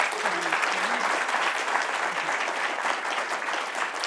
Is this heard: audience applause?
yes